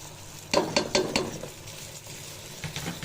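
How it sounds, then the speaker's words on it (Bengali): Drained raw rice for chicken biryani is stirred and fried in a pan. A quick run of four or five scraping strokes comes first, then a soft steady sizzle and one more scrape, all close and fairly quiet. "চালটা দিয়ে নাড়াচাড়া দিয়ে ভালো করে ভেজে নেব।"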